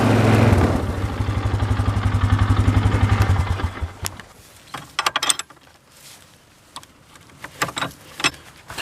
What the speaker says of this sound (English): We'll see if the four-wheeler can tow it.